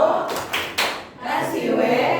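A school audience performs a patterned group clapping routine, with sharp synchronized claps in bursts separated by short pauses, then a burst of loud voices joining in near the end.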